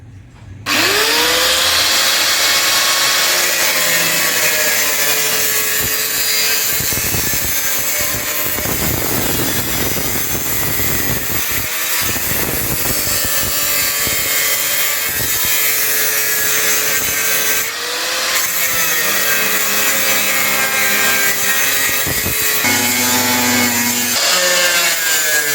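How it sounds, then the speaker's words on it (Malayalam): Power cutting tool grinding through rusted sheet metal on an abandoned 1985 Maruti 800 body during restoration, a loud continuous whine with a few brief dips, steady and close. "ഇനിയിപ്പോൾ നമ്മളെന്തായാലും അവിടെ ആ പഴയ റണ്ണിങ് കൂടെ കട്ട് ചെയ്യാൻ വേണ്ടിയിട്ട് പോവുകയാണേ"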